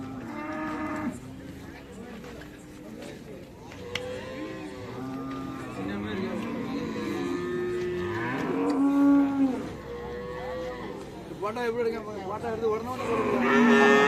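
Several native cattle at a cattle market in Valliyur moo repeatedly, long low calls overlapping one another at close range, with a few voices talking in the background.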